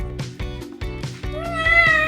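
A domestic cat meows several times in short, close, clear calls, the later ones drawn out and higher, with no talk over them.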